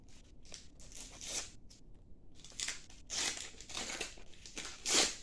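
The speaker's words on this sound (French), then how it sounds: "Donc on va ouvrir ce petit paquet de cartes" A small pack of Harry Potter Panini trading cards being torn open: close, crisp crinkling and crackling of the wrapper in irregular bursts separated by short pauses, with the loudest rustle near the end.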